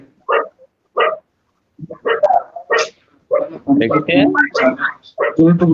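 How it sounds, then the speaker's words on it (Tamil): A dog barks repeatedly inside a house, sharp yips and barks in irregular bursts, loud and close, overlapping with people talking. "உங்க வீட்ல ஒரு நாய் கத்திட்டு இருக்குல ப்ரோ"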